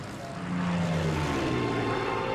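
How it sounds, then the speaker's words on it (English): A Spitfire fighter's piston engine runs on the ground just before take-off, a close, steady droning roar that swells after the first half second and holds loud and even. "to one of the Spitfires about to take off"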